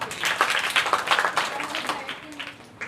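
Children clapping together in a Sunday school class, a dense burst of hand claps that fades out over a few seconds, with voices mixed in.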